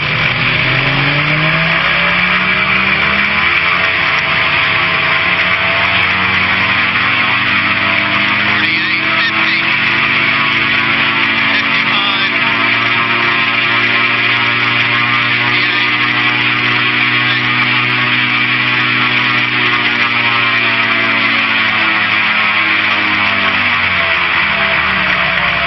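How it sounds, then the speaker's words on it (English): A vehicle engine runs up under a held brake during a run-up check, holding a loud, steady high-revving drone with strong harmonics for the whole stretch, its pitch dipping slightly then rising again. "What we're going to do is an engine run up."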